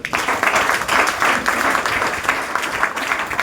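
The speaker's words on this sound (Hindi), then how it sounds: "तो मैं चाहूंगा उस ट्रेनिंग के लिए, उस कहानी के लिए एक बार जोरदार ताली।" Loud audience applause at a motivational training talk, a short dense round of clapping that pulses with slight surges, with no voices over it.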